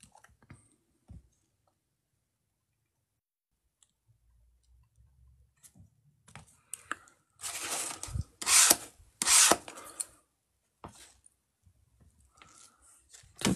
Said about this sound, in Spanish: Sí, toca raspar mejor.